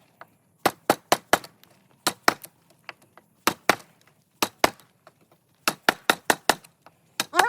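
Microtech LUDT knife blade hacking into a 2x4 board: a run of sharp, loud woody chops and cracks in irregular bursts, close by, with no talking.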